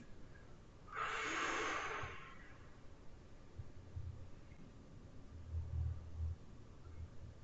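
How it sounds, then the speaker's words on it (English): A single long, deep breath of air, close and fairly loud, comes during a morning mobility stretch, then fades into quiet low background hum with faint soft thumps. "Now breathe."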